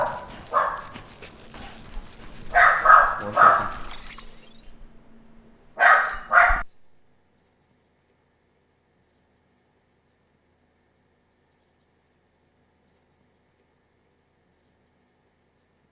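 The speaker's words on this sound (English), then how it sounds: "he's a very vocal puppy" Barking from a very vocal puppy indoors, several sharp barks and yips in short bursts over about seven seconds, fairly close, with a brief spoken remark among them before silence.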